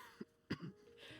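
A video game character clears their throat and coughs: two short, rough bursts close to the mic, over a quiet background.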